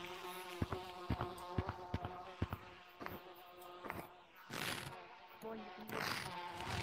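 Buzzing bees in the Gorilla Tag video game, a dense insect drone with sharp clicking taps and bursts of noise, while a person talks over it.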